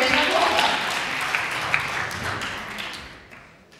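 Audience applause for a contestant at a youth speech competition, a dense wash of clapping that slowly fades toward the end.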